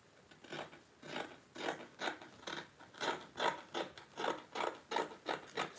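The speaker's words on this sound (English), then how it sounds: "Okay, so now I'm going to cut this out now." Scissors snipping through gown fabric along a basque waistline, a steady run of about a dozen crisp, rhythmic cuts, close and fairly quiet.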